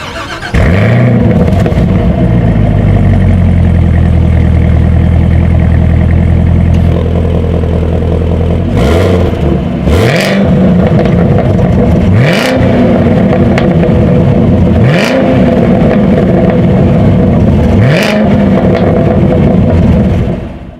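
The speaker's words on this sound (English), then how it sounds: "those outside valves are going to open up and let out a beast of a growl with some amazing crackling" A 2019 Chevrolet Camaro ZL1's loud, deep exhaust growl holds steady with valves open, then the engine revs and drops repeatedly, with crackles and pops between each rev.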